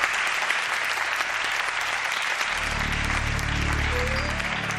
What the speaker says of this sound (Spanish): Os pido un aplauso grande para él.